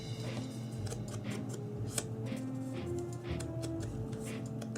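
Paper is trimmed with scissors for a Halloween easel box card, giving quiet, close snips and small crisp clicks scattered over a faint background hum.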